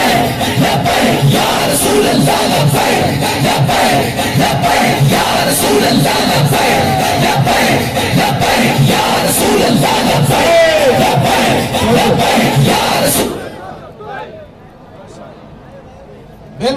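Political workers at a rally for Allama Khadim Hussain Rizvi chant slogans together as a loud, dense crowd for about thirteen seconds. The roar then cuts off abruptly, leaving quiet background murmur.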